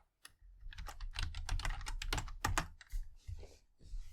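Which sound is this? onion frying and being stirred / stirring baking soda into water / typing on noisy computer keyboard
typing on noisy computer keyboard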